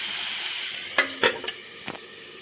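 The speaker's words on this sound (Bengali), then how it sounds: "শাকটা খুব ভালো করে ভাজা ভাজা হয়ে গেছে।" Drumstick leaves fry in a pan, a bright steady sizzle up close, followed by a few short scraping stirs toward the end.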